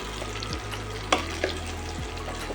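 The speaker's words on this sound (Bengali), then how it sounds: "একটু ভেজে নিতে হবে লাউটা।" Finely chopped bottle gourd frying in mustard oil, a steady close sizzle with a couple of soft stirring clinks over a low background hum.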